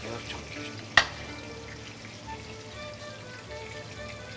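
Onions frying in a pan with oil for an Armenian dish, a soft continuous sizzle with one sharp tap or clink near the start, steady and close with no talk.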